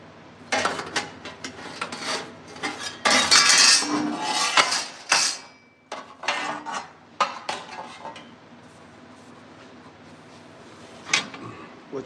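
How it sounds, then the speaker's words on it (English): A part for a new gauge cluster on a 1961 Ford box van is trimmed to fit with uneven bursts of close scraping, rasping and light clattering, separated by short pauses and a quieter stretch near the end. "Now we'll trim this to fit."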